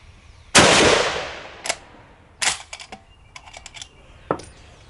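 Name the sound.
Ishapore 2A1 7.62x51 rifle gunshots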